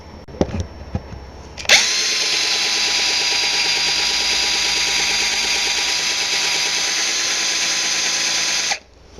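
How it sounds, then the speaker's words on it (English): A power drill countersinking screw holes whines at a steady high pitch for several seconds after a few light clicks and knocks, then stops abruptly. "I'm going to attach this to my drill, and then I'm going to countersink the holes"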